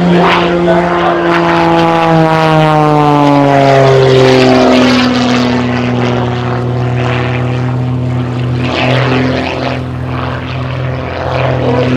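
An Extra 300 aerobatic airplane performing at the Oshkosh 2018 airshow, its propeller engine roaring loud and close, the pitch sliding steadily downward as it passes, then settling into a sustained throaty drone.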